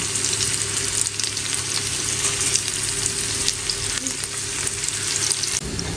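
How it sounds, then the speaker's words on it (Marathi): Rava-coated prawns fry in a pan over a low flame, giving a steady, close, crackling sizzle that runs unbroken and alone. "तुम्ही बघू शकता इतके मस्त असे फ्राय झालेले आहेत ना रवा प्रॉन्स फ्राय"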